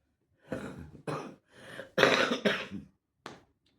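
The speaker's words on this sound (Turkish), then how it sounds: "Öksürüyorum. Öksürdükçe korkuyorum." A series of harsh, throaty coughs in uneven bursts, close and fairly loud, followed by a brief pause and one last cough.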